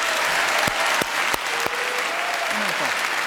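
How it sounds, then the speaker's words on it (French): A room full of people applauds steadily, with a voice speaking briefly over the clapping. "on vous applaudit pour votre réponse"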